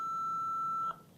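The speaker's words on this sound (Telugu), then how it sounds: "ఇది లాంగ్ ప్రెస్ చేసేస్తే ఈ బీప్ సౌండ్ వచ్చేసి ఆన్ అయిపోతుంది" A single steady electronic tone from an AED defibrillator powering on after its button is held down, lasting just under a second before cutting off into quiet room tone.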